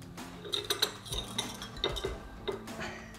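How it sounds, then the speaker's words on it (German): Salt and chili-garlic powder being stirred together in a small bowl for a hot dog spice mix, heard as close, irregular clinks and scrapes of a utensil against the dish in quick bursts. "Und dafür mische ich die Gewürze."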